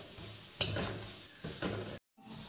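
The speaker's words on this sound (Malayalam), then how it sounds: "ഇത് ഇനി ബ്രൗൺ ഷെയ്ഡ് ആയി വരുന്നിടം വരെ നമ്മളിങ്ങനെ ഇളക്കിക്കൊണ്ടിരിക്കണം." Sliced onions fry in ghee for biryani as a spoon stirs them, giving bursts of sizzling with scraping clinks. The sound cuts out briefly near the end, then returns quieter.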